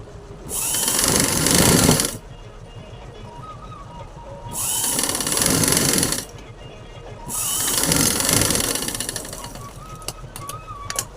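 Sewing machine stitching the main pieces of a one-year-old baby's gown together, running in three sustained bursts of about one and a half seconds each with brief pauses between them, close and fairly loud.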